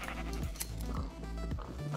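A Minecraft sheep gives a short, faint bleat over a low background hum, a single quiet call in a game world.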